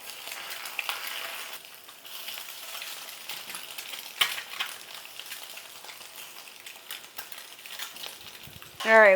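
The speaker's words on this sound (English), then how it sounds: "I'm gonna go ahead and cook me up 2 over easy eggs" Two over easy eggs fry in a pan with a soft, steady sizzle and light crackling, fairly faint, with occasional clicks and a brief louder sound at the end.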